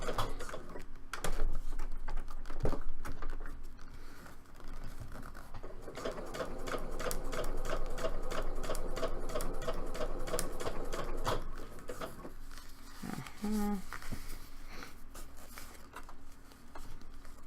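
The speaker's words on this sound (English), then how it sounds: "it's harder for me to read with the sewing machine" A sewing machine stitching while making cosplay belts and bags: fast, even mechanical rattling that runs in bursts with short pauses, close and clear, mostly alone with little talk.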